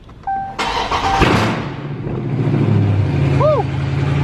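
A Dodge Charger Scat Pack V8 cranks and fires up loudly and close, settling into a steady, rumbling idle with a deep low drone.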